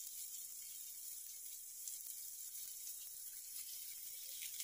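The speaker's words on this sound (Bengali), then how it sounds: "জিরেটা ফুটফুট করে ফুটলেই এই একটু অনিয়ন আর গার্লিকটা দিয়ে দেবো, ভালো করে একটু ভেজে নিতে হবে।" Onion and garlic fry in a pan of oil with cumin seeds, giving a soft, steady hiss that stays faint and even throughout with no voices.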